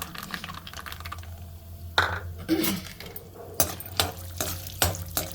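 Peanuts frying in a little oil in a pan, stirred with a spatula: a steady low sizzle under sharp scraping and clattering strokes against the pan, several distinct stirs close by.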